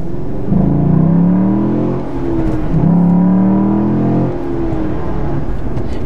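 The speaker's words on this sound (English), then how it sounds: "it gets louder in here because the intake, there's a tube literally pushing sound into the cabin of this car" Engine noise inside the cabin of a 2017 Chevy SS, fed in by an intake tube, a loud droning hum that rises in pitch twice as the engine revs, steady and close throughout.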